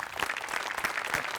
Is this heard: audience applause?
yes